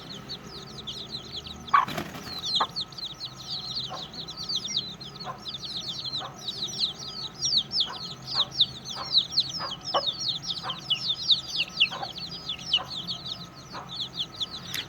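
Aseel hen with newly hatched chicks: a steady stream of high, rapid chick peeps over the hen's low, spaced clucks, fairly close and continuous, with no talking.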